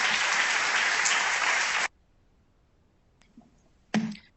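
A burst of audience applause at a cybersecurity policy forum claps steadily for about two seconds, then stops abruptly, followed by quiet and a couple of stray sounds.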